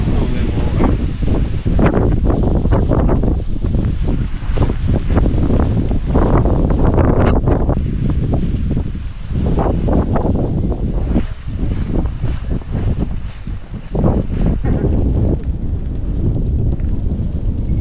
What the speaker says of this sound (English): The middle of hurricane!